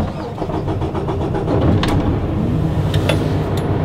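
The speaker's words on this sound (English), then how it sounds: "Whoa, the truck has started. It's very quiet." A semi truck's engine starting up, a broadband churning rumble building and then settling into a steady low idle, close by and fairly loud, with no talk over it.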